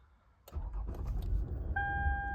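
A 2010 Lexus ES 350 engine cranks and catches after a quiet moment, settling into a smooth, steady idle heard up close, with a chime sounding in the cabin near the end.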